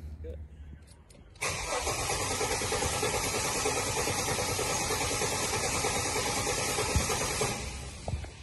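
A Ford BA Falcon with an intermittent stall fault cranks and catches, then settles into a steady, loud mid-pitched idle before the engine cuts out abruptly near the end.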